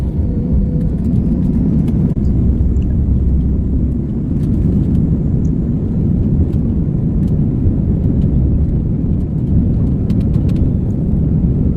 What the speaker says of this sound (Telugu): చూడండి అసలు ఫ్లైట్ టేక్ ఆఫ్ ఎలాగవుతుందో క్లియర్గా ఇవాళ షూట్ చేశాను.